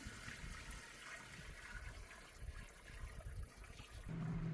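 A portable washing machine filling with about ten gallons of water for a rinse cycle, a steady rushing, gurgling flow of water that runs continuously at moderate level, with a low hum joining near the end.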